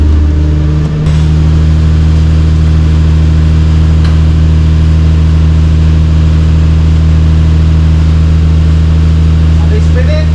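A Nissan Skyline R32 GTR running during a clutch test, a loud, steady low engine drone held close to the car, with voices talking over it.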